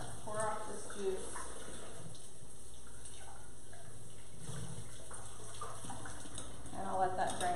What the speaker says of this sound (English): All right, pour off this juice.